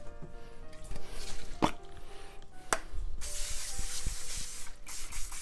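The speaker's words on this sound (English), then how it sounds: "we're going to actually spray it with some" Short hissing bursts of cooking spray into a pan, a couple of quick sharp blasts followed by a longer steady spray near the microphone.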